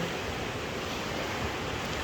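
Steady broadband wash of ocean surf, a continuous rushing roar with no distinct breaks, close and fairly loud, with some wind noise mixed in.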